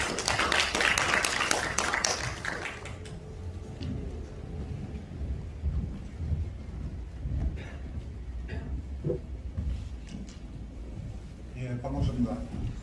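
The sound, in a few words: audience applause welcoming a speaker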